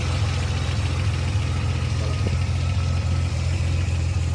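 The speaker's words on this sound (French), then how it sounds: "Voilà ce petit moteur qui tourne très bien." A 1961 Austin Healey 3000 MK1 engine idles steadily nearby, a low, even rumble with a regular throb that holds constant throughout, with no voices.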